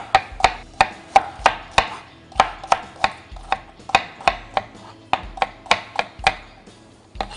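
Shallots being sliced with a kitchen knife on a cutting board for Thai cooking, heard as a quick, steady run of crisp, close knife strikes, about two per second, with no talking.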